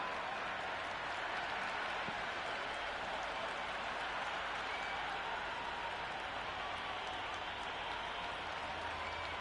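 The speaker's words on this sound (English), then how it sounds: "Will you listen to that crowd? They are loving this." A cricket stadium crowd at a legends match at Lord's cheers and applauds in a dense, continuous wash of noise, heard at a distance and fairly faint throughout.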